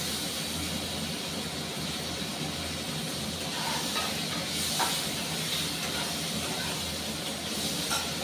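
Black cumin seeds tempering in hot oil give a steady, even sizzling hiss that runs unbroken throughout, fairly quiet, with no talk over it.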